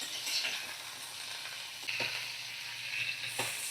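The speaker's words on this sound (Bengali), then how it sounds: "কাঁচা গন্ধটা চলে যাওয়া পর্যন্ত আমি ব্রোকলি আর ফুলকপি ভেজে নেব।" Cauliflower and broccoli pieces sizzle steadily in hot oil, a close, even frying hiss with a few soft stirring scrapes and no talking.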